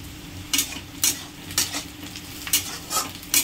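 Onions and green chilies frying in a pan for a spicy masala, a steady close sizzle punctuated by about seven regular metal spoon scrapes against the pan, with no talking.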